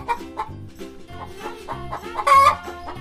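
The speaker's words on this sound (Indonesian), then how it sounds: "Wow, ada ayam jago." A rooster gives a series of short, close clucks, then bursts into a loud crow near the end, with no talking over it.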